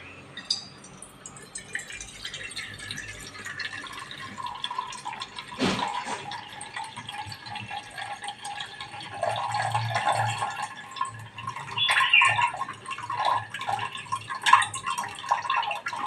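Water poured off soaked wheat, a soft trickling and dripping flow with gurgling splashes that swell and fade over a quiet background, close by and without talk.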